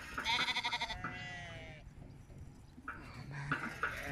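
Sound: pet lambs bleating

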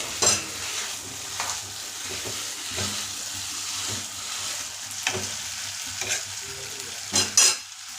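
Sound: stirring ragi pudding with cashews in a pan

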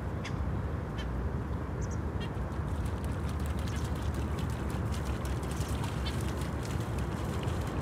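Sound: ducks quacking

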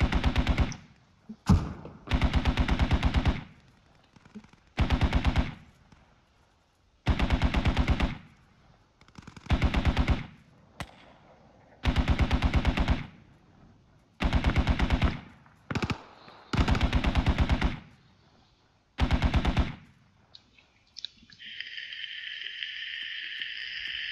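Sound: gunfire in video game Squad

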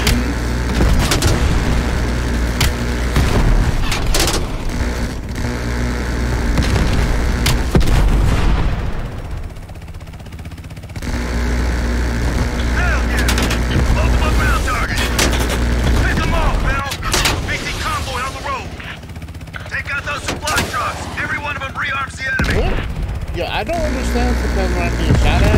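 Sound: gunfire and explosions in Call of Duty Cold War video game

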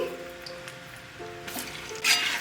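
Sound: sweet potato pantua balls deep frying

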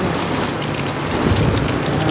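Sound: rain

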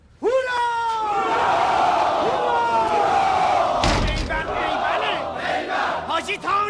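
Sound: crowd shouting hurrah

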